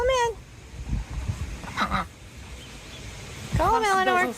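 Geese on a homestead give a few honking calls, a short burst at the start and a louder run near the end, with rustling farmyard movement and faint murmuring in between.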